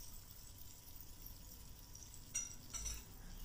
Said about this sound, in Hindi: और इनको अच्छी तरह मिक्स कर लेंगे।